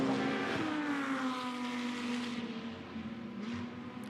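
GT2 race cars pound past at Misano circuit, a loud, close engine roar holding a strong droning pitch that shifts slightly as the cars go by, fading a little at the end.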